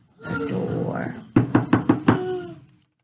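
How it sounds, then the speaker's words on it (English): Five quick, loud knocks on a house door follow a stretch of talk, the raps evenly spaced and close by, with speech returning faintly afterward. "I rode my bike to his house and knocked on the door."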